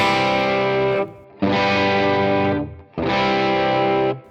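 Three long, heavily distorted electric guitar chords ring out one after another, loud and sustained, each stopped briefly before the next.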